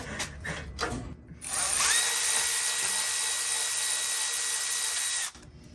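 A Milwaukee power tool spins out a bolt on a Sears GT 19.9 garden tractor, a loud high whine that ramps up and holds steady for about four seconds before cutting off, close by, after brief clatter.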